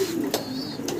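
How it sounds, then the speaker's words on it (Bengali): A pigeon coos at close range, a short low call with soft rising notes, set against quiet room ambience at a pigeon sale. "চমৎকার আরো এক পিস কবুতর দেখাচ্ছি"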